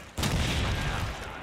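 Gunfire in Call of Duty 2, a dense burst that starts abruptly and holds loud and continuous for over a second, with no voices over it.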